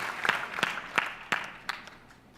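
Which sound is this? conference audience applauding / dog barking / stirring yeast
conference audience applauding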